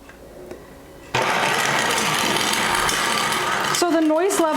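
A KitchenAid grain mill attachment grinds wheat on a coarse setting. After a quiet start it switches on abruptly into a loud, steady, whirring mechanical grind that runs on continuously. A voice starts talking over the noise near the end.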